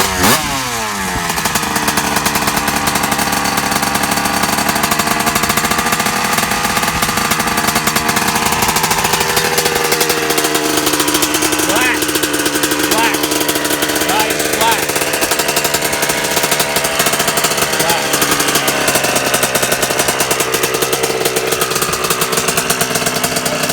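A Honda CR125 two-stroke dirt bike with Boysen power reed valves screams through a drag race power run, its loud buzzing engine note rising and holding high as it accelerates away.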